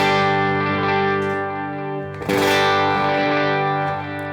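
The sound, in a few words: guitar through pedalboard in mono mode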